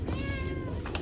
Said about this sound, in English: You meow.